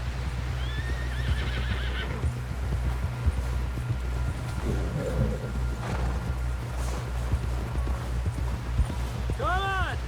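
Horse neighs and whinnies in the Red Dead Redemption 2 video game, with a few clip-clop hoofbeats over a steady low rumble and background voices; whinnies rise briefly near the start and again near the end.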